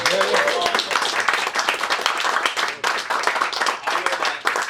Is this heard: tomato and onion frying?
no